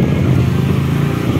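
A motorcycle engine drones steadily and loudly throughout while riding, a continuous low rumble with wind noise and no pauses.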